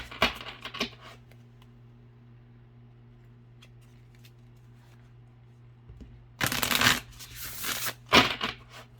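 Oracle cards with gilded edges are shuffled in two short, crisp riffling bursts near the end, after a quiet stretch with a faint low hum and a few brief rustles at the start.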